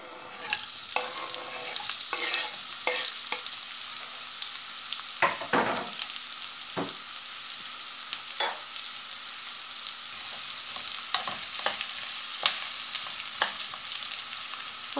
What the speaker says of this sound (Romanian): O lăsăm puțin să se undească, să se prăjească puțin, puțin